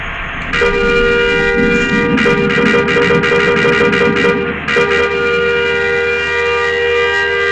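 A vehicle horn blares in long sustained tones, cutting off briefly twice and resuming, loud and close, with a rapid stuttering burst of honks in the middle and engine rumble underneath.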